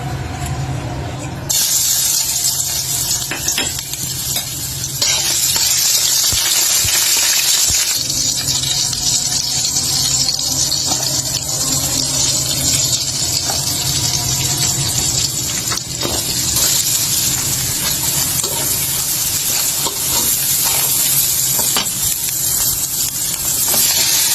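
Prawns coated in turmeric fry in a pan with a loud, continuous hissing sizzle that swells after a quieter start and holds steady throughout.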